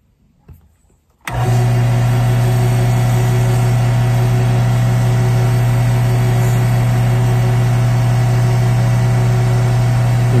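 A wood lathe hums steadily at roughly 2500 to 2700 RPM, switching on abruptly after a quiet moment and then running loud and constant with a strong motor drone.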